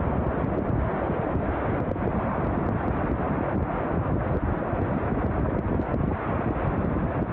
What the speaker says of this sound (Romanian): Erupția vulcanului Cumbre Vieja din insula La Palma continuă să facă ravagii.